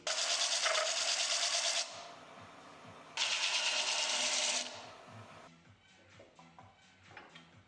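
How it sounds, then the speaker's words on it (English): Two long bursts of loud, harsh sanding, walnut wood ends pressed against a powered sanding table in a jig, separated by a short pause, then fading to quieter rubbing and handling noises. "I rigged up a jig on my sanding table in order to sand the ends square."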